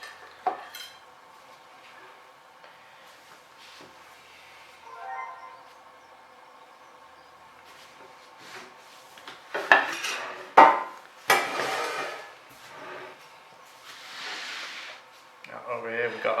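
Cut brisket being moved onto a plate, with scattered clinks of utensils and dish sounds and soft scraping, close by and sparse, with quiet stretches between bursts.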